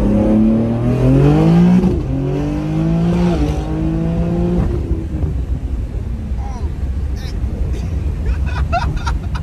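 A BMW G80 M3 tuned to about 954 wheel horsepower pulls hard through rising, shifting engine tones during the first five seconds, then fades into road and background noise with faint voices.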